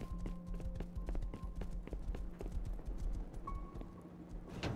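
Horse hooves galloping in the survival video game Rust, a rapid, steady clip-clop rhythm running throughout at moderate loudness, with game ambience underneath.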